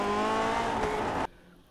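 Lotus 49 race car in iRacing at Summit Point, a loud steady engine drone with tire squeal through a corner, cutting off abruptly to near silence.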